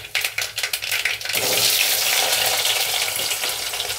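Onion pieces hit hot oil with mustard seeds and two dried red chillies. A short patch of clattery stirring comes first, then a sudden loud, close sizzle swells up and holds steady.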